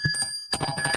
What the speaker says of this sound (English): And we also got 200 likes, which is what the bell was.